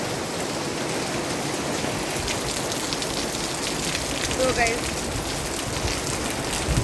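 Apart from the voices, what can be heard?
unseasonal rain falling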